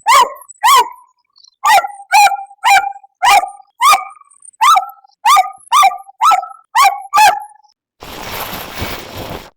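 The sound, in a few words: AI-generated sound of a dog barking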